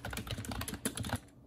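Rapid, light key clicks from a Bluetooth keyboard attached to an iPad Air 4, a quick close-up burst of typing that stops abruptly near the end.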